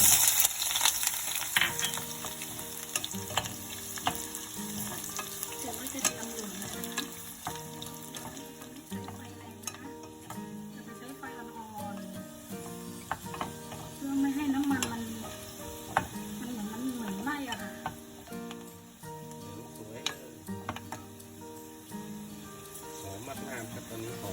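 Garlic and ginger frying in oil in a pan, a faint, continuous sizzle with occasional soft clinks of utensils, under a quiet background hum, and a voice speaks in places.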